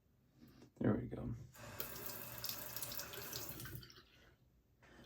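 A bathroom tap runs steadily into a sink for rinsing during a shave with a vintage Gillette post-war safety razor, a brief splash first, then a continuous close stream that fades out.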